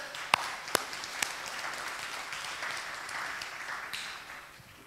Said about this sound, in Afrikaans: Ons gee julle 'n hande klap.